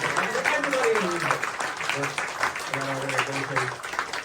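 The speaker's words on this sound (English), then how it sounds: "can we give one more round of applause to Princess Margaret and all the wonderful staff" An audience at a comedy fundraiser show in Toronto claps for Princess Margaret hospital staff, a sustained round of applause with a voice speaking through it.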